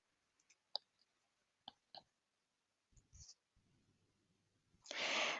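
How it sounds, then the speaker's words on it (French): Several sharp, faint computer mouse clicks spaced irregularly in a quiet room, followed by some soft low handling noise and a brief burst of hiss near the end. "Donc là, je vais cliquer sur «Oui»."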